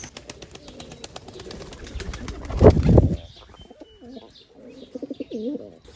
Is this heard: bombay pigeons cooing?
yes